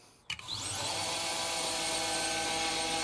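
A belt grinder fitted with a Caffrey platen attachment clicks on, and its motor spins up into a loud, steady whine with a rising pitch that then holds at a constant, even roar.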